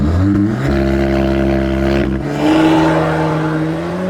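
A tuned car running on E85 fuel accelerates hard from a standstill, its engine note climbing loudly before a quick gear change midway and then building again.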